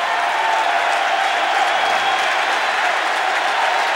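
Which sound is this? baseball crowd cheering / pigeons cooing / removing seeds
baseball crowd cheering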